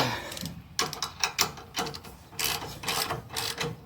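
A ratchet fitted with a 3/4 inch socket tightens the clamp bolts on a receiver hitch anti-rattle clamp, giving repeated close mechanical clicking strokes in short bursts with brief pauses between them.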